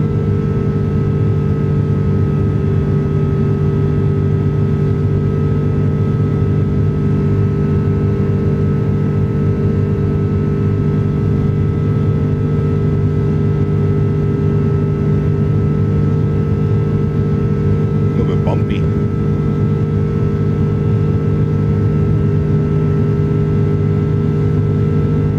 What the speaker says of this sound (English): These are the Rolls-Royce engines.